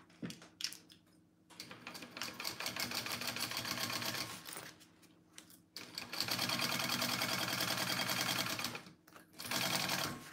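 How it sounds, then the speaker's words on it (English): A sewing machine stitching a bag lining seam runs in long loud bursts of rapid mechanical whirring, stopping and restarting several times with short quiet gaps between runs. "now we're going to sew at our full seam allowance"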